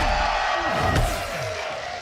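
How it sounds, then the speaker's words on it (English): A crowd at a fighting game tournament cheers loudly, a steady wash of shouting and whooping with a brief sharp peak near the middle. "Sounds to me like the crowd favors Sonic Fox"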